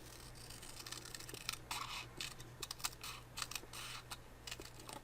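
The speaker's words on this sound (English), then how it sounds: "I'm going to show you with these scissors." Scissors snip through paper while cutting out paper butterflies by hand, a close, quiet run of small irregular clicks and crisp cuts with no talk over them.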